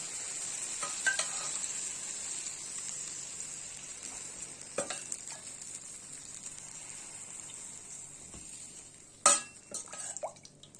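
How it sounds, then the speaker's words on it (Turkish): Cold syrup poured over a hot syrup-soaked dessert gives a faint, steady crackling sizzle with a few scattered drips and clinks, close by and without speech. "Şimdi şerbetimiz soğuk, tatlımız sıcak. Bunu birbirine şöyle aktaralım."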